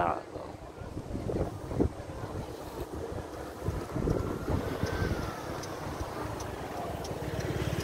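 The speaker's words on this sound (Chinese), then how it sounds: "今天阵风还蛮大的" Strong gusty wind buffets the microphone beside an airport runway, a steady loud rumble that swells in bursts throughout, with faint engine noise underneath.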